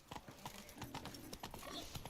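Roach, the horse in Witcher 3, gallops in a rapid, rhythmic clip-clop of hooves, fairly quiet and steady throughout with faint game ambience behind.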